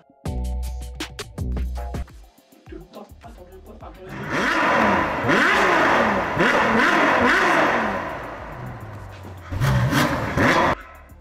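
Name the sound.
Ferrari 812 Superfast engine revving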